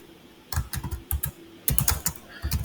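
Typing on a computer keyboard while entering a Python print command, two quick bursts of close, crisp key clicks separated by a short pause.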